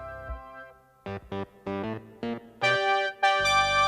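A chorus of robot voices sings a company song, deliberately pitched a flattened fifth out of tune, with buzzy synthetic tones in short rhythmic bursts that swell into sustained, louder chords toward the end.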